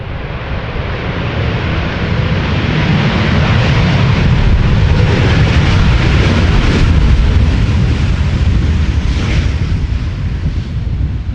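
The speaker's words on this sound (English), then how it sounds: "I actually heard a reverser being used there." A KLM Boeing 747 landing at Amsterdam Schiphol with its thrust reversers deployed, giving a loud, sustained broadband roar that holds steady throughout without talk.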